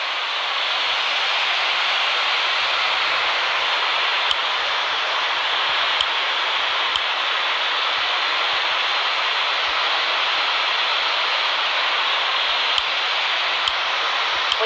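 An Airbus A330-300 in Real Flight Simulator, taking off at Hong Kong with engines at full power: a loud, steady, hissing roar that holds evenly throughout, with no talking.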